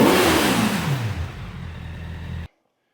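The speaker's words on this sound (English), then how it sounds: "it has a 1000 RR Fireblade engine in it" A car fitted with a 200-horsepower Honda 1000 RR Fireblade motorcycle engine and a rear limited-slip differential revs hard close by, a loud high rising whine that eases into a steady drone before cutting off abruptly.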